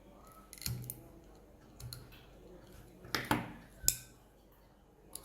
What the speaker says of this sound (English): and cut one of the corner using scissors.